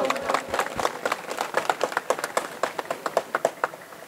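Crowd at a Chembur assembly election rally clapping for supporting Ambedkarite organisations, a rapid, rhythmic burst of hand claps close by that builds into steady, loud applause.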